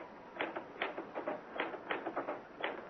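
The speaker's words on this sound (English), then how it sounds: "Why did I never learn to work a typewriter?" Typewriter keys clack in irregular bursts of sharp strikes, some in quick clusters, close and moderately loud with no voices.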